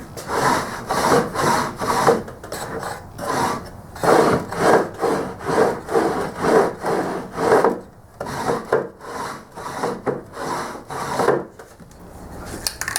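A wooden frame for a DIY in-out box being hand-sanded to 150 grit: close, loud, rhythmic back-and-forth rasping strokes in a steady run, with a brief break partway through.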